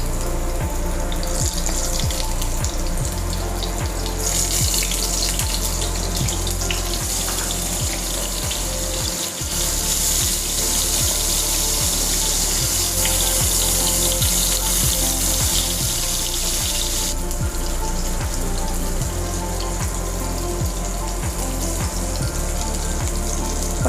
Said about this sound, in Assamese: তেল গৰম হল পটল কেটা দি দিছো।